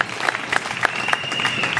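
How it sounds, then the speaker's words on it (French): Wedding guests at a customary and civil marriage ceremony clap for the bride's father, a brisk steady patter of many hands with individual claps standing out, moderately close and without talk. "Applaudissons très fort pour le père de mademoiselle Lila."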